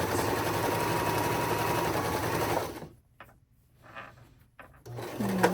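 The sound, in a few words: Baby Lock Accolade sewing machine back stitching a zipper pouch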